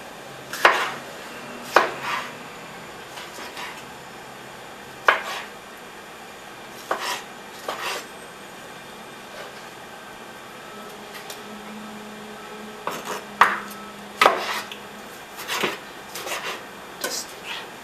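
A knife chopping tomato on a cutting board for a raw vegan chili, sparse clusters of sharp taps separated by pauses, close and clear in a quiet kitchen.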